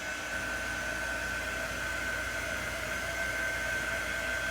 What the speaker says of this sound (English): I'm going to just grab my heat tool again, or my quick dry tool I should say, and get this black all dry